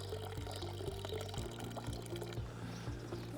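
Water pours steadily from a village fountain in Auvergne, a continuous close splash and burble with a faint repeating tone running underneath.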